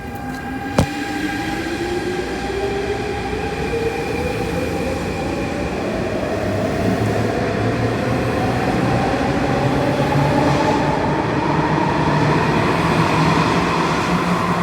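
A metro train to Hong Kong pulls into Lai King Station, its motor whine rising steadily in pitch over a constant rolling rumble, with a brief sharp click near the start and no talking.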